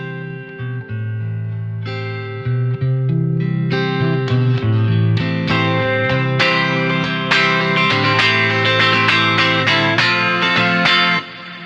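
An electric guitar through a Kemper Profiler plays a continuous melodic passage with a spacious dynamic reverb tail, starting softer and growing fuller and louder.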